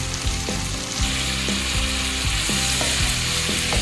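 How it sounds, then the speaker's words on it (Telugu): Chopped onions and tomatoes frying in hot oil, with a steady loud sizzle, occasional stirring scrapes and clinks of a spatula in the pan. "ఇంకా ఇవి కొద్దిగా ఆయిల్లో ఫ్రై అవ్వనివ్వాలి"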